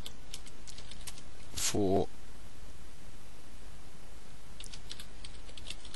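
Keys clatter on a computer keyboard in short bursts of clicks at the start and again near the end, with a single spoken word in between, close and fairly faint.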